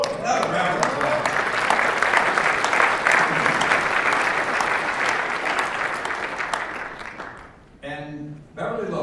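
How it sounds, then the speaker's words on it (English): Guests at the 2016 AUSA veterans dinner give a sustained round of applause that gradually thins and fades, then a voice speaks over the room at the end. "Another round of applause."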